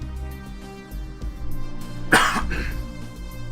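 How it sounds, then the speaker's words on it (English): A single short, harsh cough bursts out close by over a low background hum, with quiet before and after. "I have a little bit of a cough today."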